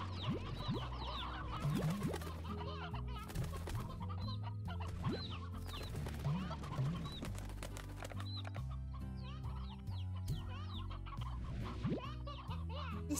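Hens clucking in the video game Slime Rancher, a dense barnyard of repeated clucks and squawks layered over steady game music with a faint voice at times.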